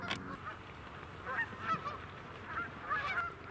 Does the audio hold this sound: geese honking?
yes